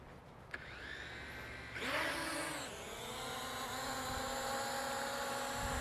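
A Falcon 1808 drone with an optical-flow sensor spins up and takes off, its rising motor whine settling into a steady, close buzzing hum as it hovers.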